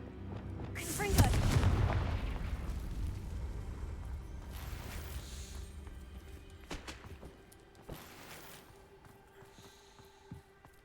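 A Confringo fire spell explodes in Hogwarts Legacy with one sharp, loud boom that decays into a long rumbling tail, followed by fainter clicks and small pops.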